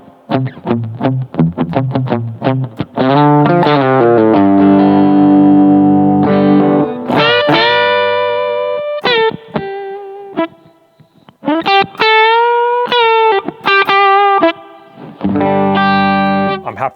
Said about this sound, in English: on the reverb plus is a spring reverb